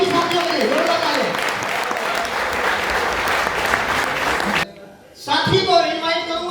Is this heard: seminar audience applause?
yes